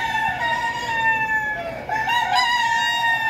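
Chickens cluck and call continuously nearby, with drawn-out crowing-like tones over a noisy background.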